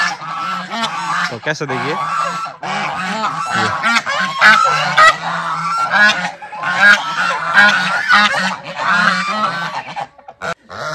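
A large flock of domestic ducks kept in a tribal village in Rajasthan quack and honk together in a loud, continuous chorus, with a voice briefly speaking over the clamor.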